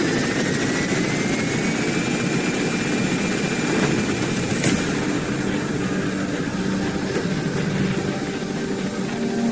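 The P-Quad helicopter gaining altitude in the video game Metal Gear Solid 5, a steady, loud rotor-and-engine drone with a rising whine, continuous throughout.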